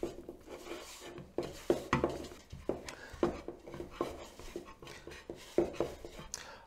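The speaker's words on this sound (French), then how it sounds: "on va commencer à mélanger ça à la main" A hand works shortcrust pastry dough in a bowl, giving soft irregular scrapes and dull taps against the bowl at close range.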